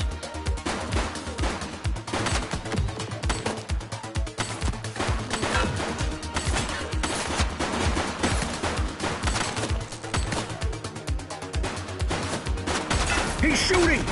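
Sustained rapid gunfire from police and suspects in the game The Precinct, dense overlapping shots and bursts with voices shouting amid the firing.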